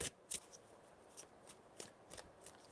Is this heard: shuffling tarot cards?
yes